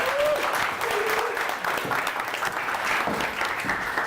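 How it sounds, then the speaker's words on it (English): A crowd claps and cheers loudly and continuously, with a brief whistle and some voices mixed into the applause. "let's put a round of applause together for Jacqueline."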